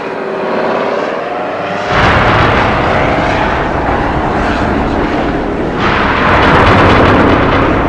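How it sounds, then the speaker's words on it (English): An Osprey hybrid military tiltrotor aircraft roars loudly and steadily, its engine noise surging louder at two points as it passes. "The latest threat is this hybrid plane, the Osprey"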